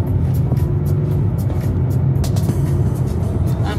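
Car driving along a road in the Grampians region of Australia, a loud, steady interior engine and road rumble with no voices.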